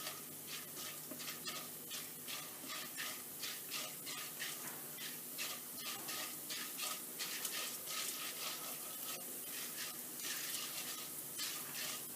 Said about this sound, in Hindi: चना दाल थोड़ी सी ब्राउन हो जाएगी।